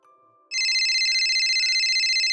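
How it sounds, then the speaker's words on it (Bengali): A mobile phone starts ringing for an incoming call, a loud, steady electronic ringtone that begins abruptly and continues without pause. "আমার একটা ফোন আসছে"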